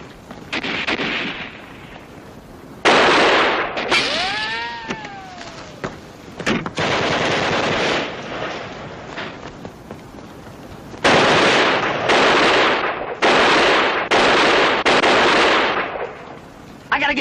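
Rapid gunfire and explosions in a 1964 TV war drama, dense loud bursts of shots crackling through most of the scene, with shouted voices between them and a brief whistling tone partway through.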